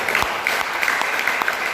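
Applause for God from a church congregation during an Indonesian sermon on families, a steady dense clatter of clapping held at an even level throughout, with no voices over it.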